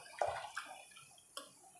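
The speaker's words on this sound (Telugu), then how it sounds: "ఇదిగో ఉడుకుతుంది చేపల పులుసు" A pot of fish curry made with tamarind simmers, giving soft bubbling pops and a few faint liquid blips that are close but quiet.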